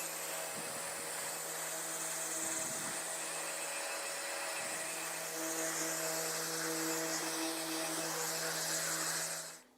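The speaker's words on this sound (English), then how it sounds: "now I'm going to go ahead and run the sander over it." An electric sander runs over a piece of thrifted furniture being refinished, producing a steady, loud motor whine with a broad abrasive hiss that holds constant for several seconds before cutting off.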